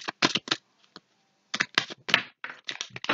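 Tarot cards drawn one by one from a deck, giving quick clusters of crisp snapping and flicking clicks with a short pause in the middle, close and fairly quiet, no talking.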